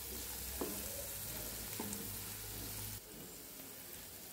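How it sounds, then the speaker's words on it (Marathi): Vegetables with salt sautéing in a pan for vegetable rice, a steady soft sizzle with a couple of faint utensil taps, easing slightly toward the end; no one speaks. "तर थोडंसं मी ह्याच्यावरून मीठ घालत आहे, जेणेकरून भाज्या मऊ होतील आणि छान परतल्या जातील"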